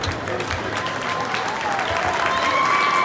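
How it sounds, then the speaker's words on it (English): Crowd applause for two boxers after a bout in a boxing ring, a dense, steady wash of clapping that swells slightly toward the end. "let's have a round of applause for both of the fighters in this"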